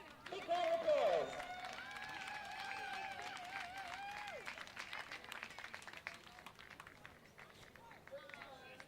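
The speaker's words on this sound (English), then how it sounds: "Big round of applause." Applause from spectators around the ring at a puppy dog show, moderate and continuous beneath a voice and a brief whine or whistle early on.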